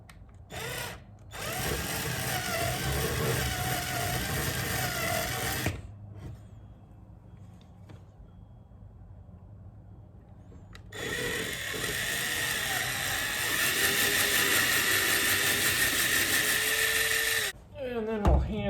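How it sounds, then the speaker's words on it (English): A power drill bores shallow pilot holes in wood marked out for a farmhouse-style end table, two sustained loud whirring bursts split by a quieter stretch with faint handling noise. "I'm just going to drill them, a pilot hole, not too deep"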